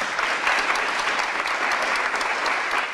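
A brief, full round of applause from a round-table audience honoring Stetson alumni female entrepreneurs, dense and even from start to finish.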